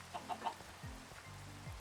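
Minecraft chickens clucking in short repeated bursts near the start, followed by lower game sounds and background hum, fairly quiet.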